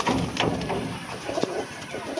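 Pigeons at a breeder's home loft, including red-coloured birds of a pedigree line, give brief soft coos and rustles against a steady background of bird noise, with no one talking.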